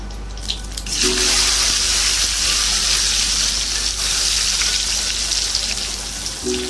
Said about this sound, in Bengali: এবার উচ্ছেগুলো ভেজে নেবো